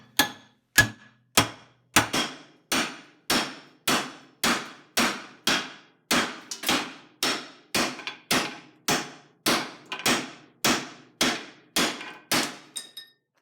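A part of a cast iron Lodge 12-inch skillet is struck about twenty times in a steady rhythm, each whack a sharp, ringing metallic clang that decays quickly, close and loud with no talk.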